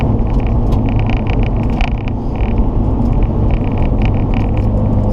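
A big classic car on the Magny-Cours race circuit makes a loud, close, continuous engine roar and rumble that holds steady for the whole stretch, with no voices over it.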